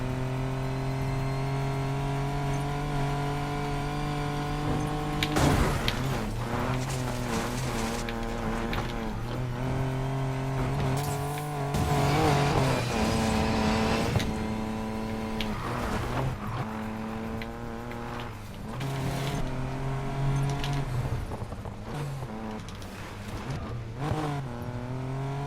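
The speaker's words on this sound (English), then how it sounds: "it's a competition bred straight six. This one's making around 631 horsepower" A competition-bred straight-six in an Aston Martin DB5, making around 631 horsepower, idles with a deep, steady hum and repeatedly climbs into loud, throaty revs before settling back, close and unbroken.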